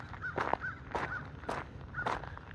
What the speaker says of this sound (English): Can you hear the crows? They're going crazy again.